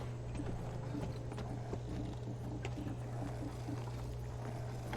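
Horse hooves clip-clop steadily in The Witcher 3 game, a regular muffled trot under a constant low hum of game ambience, with no talking over it.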